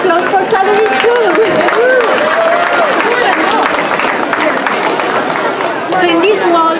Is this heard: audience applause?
yes